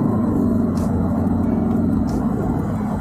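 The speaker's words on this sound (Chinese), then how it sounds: "在急加速发动机全力啊做工的情况下，发动机噪音还是明显" Engine of an FAW Toyota Harrier straining under hard acceleration, a steady low droning rumble with road and tire noise heard from inside the cabin, continuous and moderately loud.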